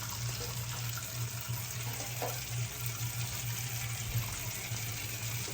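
Water runs steadily from a kitchen tap into a sink while a mixing bowl is washed. A constant close hiss is heard with faint splashes and no voices.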